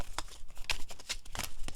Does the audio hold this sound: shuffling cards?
yes